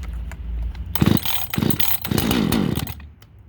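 A lightly ported Husqvarna 555 chainsaw being pull-started: three loud, close rasping cord pulls in quick succession, the engine turning over without catching.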